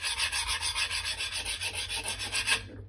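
A kitchen knife, a 165mm santoku or nakiri, is stroked back and forth on a Chosera/Naniwa whetstone, giving about a dozen quick, even rasping passes up close at a brisk steady rhythm.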